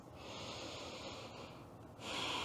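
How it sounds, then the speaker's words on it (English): Deep breaths during a chair yoga session, a soft, sustained inhale followed by a slightly louder exhale, close and quiet with no talk. "Breathing deep."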